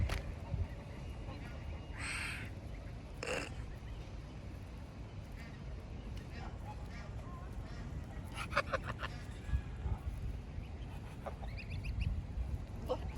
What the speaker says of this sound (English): And a Canada goose family.